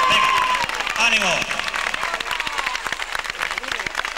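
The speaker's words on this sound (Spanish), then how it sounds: "un aplauso para estas mozas, pero fuerte" A village festival audience at a 1990 town celebration claps steadily over a few seconds, with shouts and a voice audible through the dense, fairly close applause.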